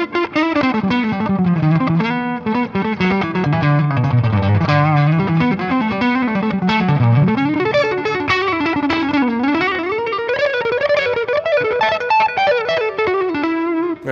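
An electric guitar with distortion and chorus effects plays a continuous lead phrase, chromatic passing tones sliding into pentatonic runs, loud and sustained throughout with no pauses.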